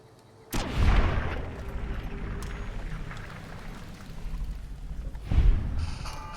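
Silenced sniper rifle in Fallout: New Vegas, with two sharp muffled shots separated by several seconds, each trailing into a rumbling echo over steady background noise.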